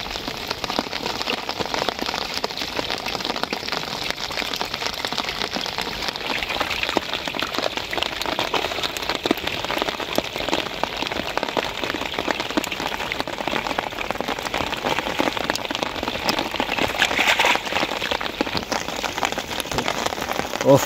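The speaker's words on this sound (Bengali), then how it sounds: "হঠাৎ করে বৃষ্টি নামছে আর তার ভিতরে জাল ফালা" Heavy monsoon rain pours steadily onto a wetland where people are fishing with nets. The dense, even hiss of drops on the water holds unbroken for about twenty seconds, with no one speaking.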